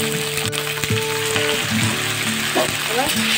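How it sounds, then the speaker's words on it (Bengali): Crab pieces with turmeric frying and sizzling steadily in hot oil, a continuous crackle with occasional stirring clinks and a faint voice in the background. "কাঁকড়া ভালো করে ভাজা হয়ে গেছে"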